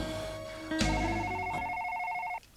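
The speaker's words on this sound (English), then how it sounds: "There's the phone." A telephone rings in the Policenauts video game, a steady electronic ring with sustained tones held for about two seconds, loud and close with no talk over it.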